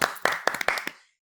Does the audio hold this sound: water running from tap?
no